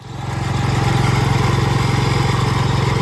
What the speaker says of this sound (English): put a coil on it, put a carburetor on it, and I got it running, and it runs pretty good